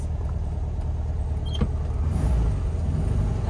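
A 1978 Volkswagen Beetle pulls away in first gear, its air-cooled engine giving a steady low rumble close by with no pause in the sound.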